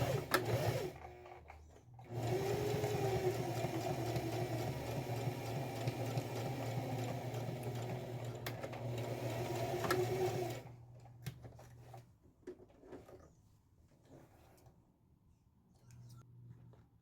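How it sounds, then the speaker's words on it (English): Sewing machine stitching the last two edges of eight joined fabric side panels into a circle for a scrap-fabric storage piece; a steady, close, continuous motor whir runs for about eight seconds, then stops, leaving a few faint handling clicks. "Now we're going to finish up and sew the last 2 edges to create a circle."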